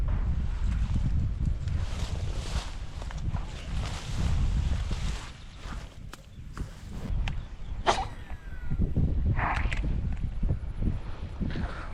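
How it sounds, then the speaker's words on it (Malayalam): Strong wind gusting across open water at a fishing spot, a steady loud rumble of wind buffeting the microphone with brief louder gusts throughout. "നല്ല കാറ്റാണ് കേട്ടോ."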